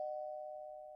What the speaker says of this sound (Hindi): अगले दिन सुबह दरवाजे की घंटी बजती है।